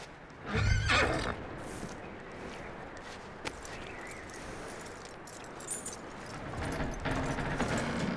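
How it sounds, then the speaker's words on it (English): A horse whinnies loudly near the start in the video game Red Dead Redemption 2, followed by softer jangling tack and occasional hoof clops against a quiet ambient background. "That looks like a decent horse."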